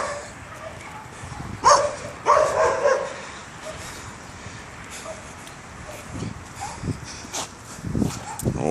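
A big dog barks and yips on a street walk in Mexico, with a few sharp close barks early on, then softer whimpers and yaps later while a person talks over it.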